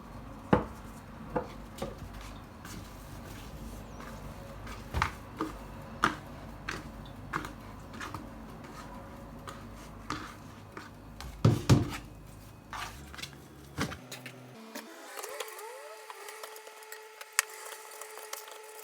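Baursak dough being shaped and cut on a wooden board: a steady run of sharp, close knocks and taps, some louder, with no talk, ending in quieter clatter.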